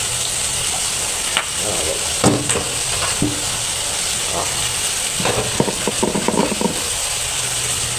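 Vegetables frying in a pan, a steady sizzle with intermittent scraping and clattering of a utensil stirring, a few faint voices in the background.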